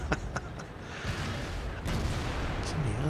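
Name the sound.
tank gun firing and hitting, from the video game World of Tanks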